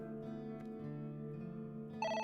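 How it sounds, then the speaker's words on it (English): A telephone ringing in the AI: The Somnium Files video game, a steady electronic ring tone sounding alone and close, brightening sharply near the end. "It's the phone. Maybe try picking it up?"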